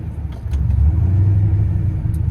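An HCI 6.0-swapped GTO engine idles roughly, a steady loud low rumble with uneven lumpy pulses and slight surges, close and alone with no talk.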